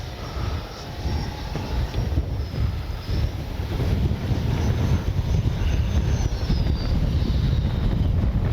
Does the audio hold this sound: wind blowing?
yes